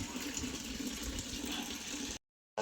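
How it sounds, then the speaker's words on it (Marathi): Water runs steadily from a tap for about two seconds as a continuous close hiss and splash, then cuts off abruptly into silence. "पाण्याची लाईट आलेले पाणी चालू आहे"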